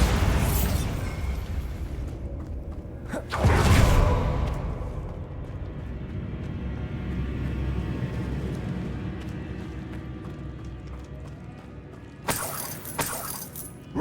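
Confringo and Bombarda spell blasts in the game Hogwarts Legacy: a heavy booming burst near the start, a long rumbling tail, and a sharper crackling blast near the end, all loud and close.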